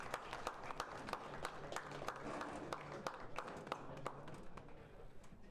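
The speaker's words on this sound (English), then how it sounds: "One more round of applause for Esteban." Audience applause at a hackathon event, a steady wash of many hands clapping for several seconds, with sharp individual claps standing out and a faint murmur underneath, fading slightly toward the end.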